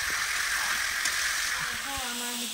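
Marinated chicken sizzling loudly in a pan with browned onions, a dense bright hiss and crackle with a stirring scrape, close up, while a voice speaks briefly toward the end.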